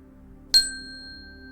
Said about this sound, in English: In a while, you'll be hearing the sound of a chime